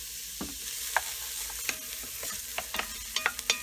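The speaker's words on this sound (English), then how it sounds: "I'm going to add about a tablespoon of garlic and a little bit of the garlic oil." Chopped garlic frying in garlic oil in a pan for spaghetti, a continuous close sizzle punctuated by frequent crisp scrapes and taps of a utensil stirring, with no talking.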